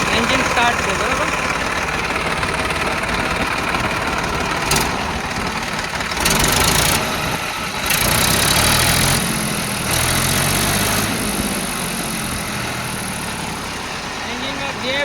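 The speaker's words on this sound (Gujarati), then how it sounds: "એન્જિન સ્ટાર્ટ છે, બરાબર." An Eicher 380 tractor engine idles steadily and loud up close in a continuous diesel rumble, with someone speaking over it throughout.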